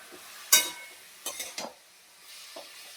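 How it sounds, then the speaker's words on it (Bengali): Vegetables frying in a pan for homemade fried rice: a quiet sizzle broken by a few sharp stirring scrapes and clinks of a utensil against the pan. "আর এখানে সমস্ত সবজিগুলো ভেজে নিচ্ছি।"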